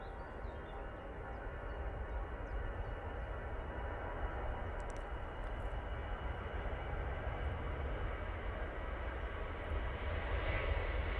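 An easyJet airliner rolls for takeoff on the Paris flight at Manchester Airport, a distant, fairly faint broadband engine roar that swells slightly toward the end, with no talking.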